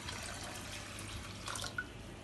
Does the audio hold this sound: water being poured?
yes